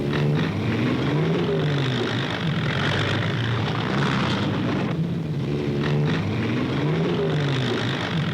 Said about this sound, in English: Army vehicles set out on the long haul from Lado to Myitkyina